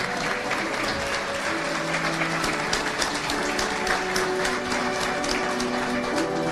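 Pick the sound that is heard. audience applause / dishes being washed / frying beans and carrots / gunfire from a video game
audience applause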